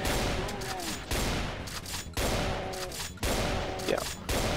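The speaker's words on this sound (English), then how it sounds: "don't mind me just using the shotgun a little." Repeated shotgun blasts from the Doom 2 TNT Evilution map Quarry, roughly one heavy boom each second, loud and close with a pump-like rattle after each shot.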